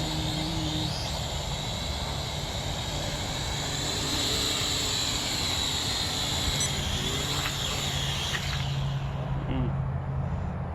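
A small folding RC quadcopter drone hovers and comes in to land outdoors, its steady broadband whir continuous throughout and fading near the end as it settles, with faint voices in the background.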